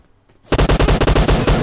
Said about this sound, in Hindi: कहीं तो था कहीं से तो गोली चली गोली चली है